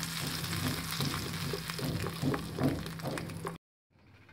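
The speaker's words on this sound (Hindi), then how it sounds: "बहुत ही अच्छा तड़का लग गया है।" Whole dried red chillies sizzle and crackle in hot oil as a tempering for a roasted chana dal chutney, a steady close frying hiss with popping bursts that cuts off abruptly near the end.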